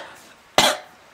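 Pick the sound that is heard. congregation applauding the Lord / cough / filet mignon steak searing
cough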